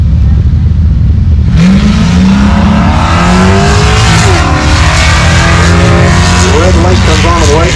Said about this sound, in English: Amber Humes, it's a 2004 Mazda RX-8 for new tint works.